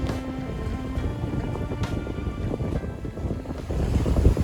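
Sailboat on the open sea bound for Moorea, with steady wind rushing across the microphone, waves washing against the hull and occasional creaks and knocks aboard, continuous and fairly loud with no talking.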